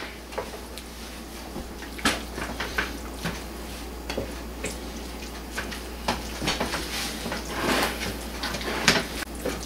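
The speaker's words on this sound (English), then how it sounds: "And then stir it all together." A spoon stirs a cheeseburger pie mixture with torn cheese pieces in a bowl, giving steady scraping and soft wet clatter with irregular knocks against the dish, close and moderately loud.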